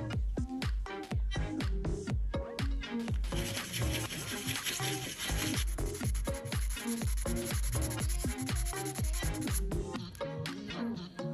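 Baltic amber holding fossil insects, including a flying ant, polished by hand, giving steady close rubbing strokes in a quick repeated rhythm that continue without pause, loud and busy, with no talking.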